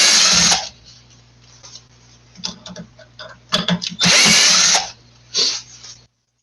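Power drill unscrewing a woodturning faceplate from a wooden bowl at a maker fair, loud whirring bursts at the start and middle with clicking trigger pulses and handling knocks between.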